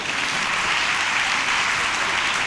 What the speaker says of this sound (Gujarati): આપણે જોરદાર તાળીઓથી આપણા મહેમાનોનું સ્વાગત કરીએ